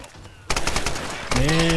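A rifle in Tomb Raider (2013) fires a rapid, loud automatic burst of closely spaced shots, with a sharp tonal whine cutting in near the end.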